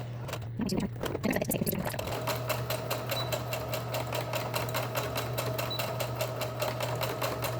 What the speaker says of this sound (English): we're going to go ahead and sew over it a few times just to reinforce it